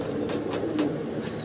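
White, leg-feathered Kashmiri Lotan pigeon babies at a pigeon sale give soft, low coos, faint and brief against quiet background noise.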